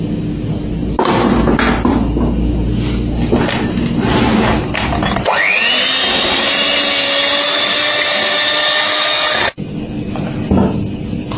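An electric mixer blends condensed milk, curd and butter for an eggless lemon yogurt cake batter, loud and continuous, its motor settling into a steady whine partway through before a brief cut-out near the end.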